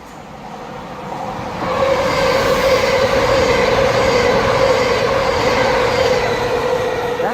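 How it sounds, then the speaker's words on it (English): A Southeastern Class 395 electric passenger train approaches and passes close by at Newington with a loud, sustained rumble and a steady tonal whine, with no voices. "Oh, and here's a train."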